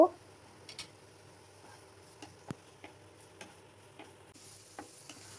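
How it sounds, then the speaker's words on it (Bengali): Chopped onion stir-fried briefly in a little white oil, with a soft, quiet sizzle broken by scattered light clicks and taps of a spatula against the pan. "এবার সবজিগুলোকে হালকা ফ্রাই করে নেব। প্রথমে পেঁয়াজ কুচিটা অল্প সময়ের জন্য নেড়ে নেব।"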